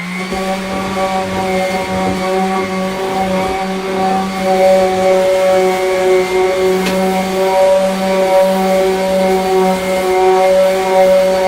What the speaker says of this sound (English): we're going to start sanding this